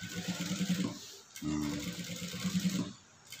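Close and steady, a sewing machine runs stitches with a shortened stitch length, its rapid mechanical whir pausing briefly midway before it resumes.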